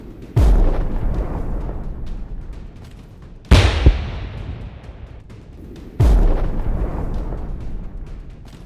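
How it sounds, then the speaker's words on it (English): Tanks fire long-range artillery, three heavy booming blasts spaced a few seconds apart, each a sharp loud crack followed by a long rolling rumble that slowly decays. "Ukrainian tanks take up positions at a safe distance and begin long-range artillery fire."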